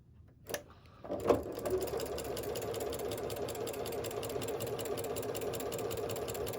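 A sewing machine runs steadily in a close, continuous hum as it stitches the side of a project bag, after a couple of brief clicks and thumps at the start.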